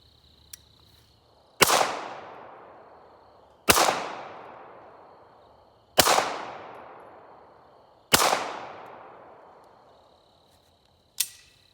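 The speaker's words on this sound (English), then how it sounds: "you have to fire 5 rounds at the target under night conditions, 1 magazine" M9 or M17 pistol firing five rounds at a target at night, sharp loud shots spaced about two seconds apart, each with a ringing decay, the last one quieter and after a longer gap.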